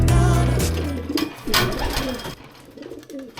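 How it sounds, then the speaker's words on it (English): Racing pigeons landing in a loft coo in soft, throaty bursts close by, mixed with wing flutters and faint rustling. "the birds continued to drop into the loft"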